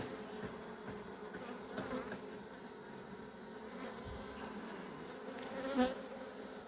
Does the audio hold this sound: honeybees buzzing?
yes